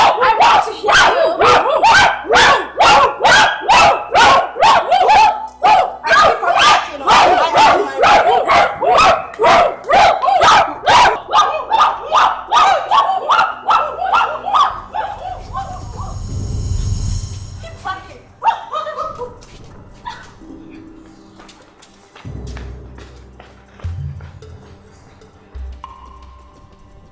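A crowd of people imitates dogs on command, yelping and barking in rapid, regular bursts for about fifteen seconds, then fading into scattered voices and rumbling movement.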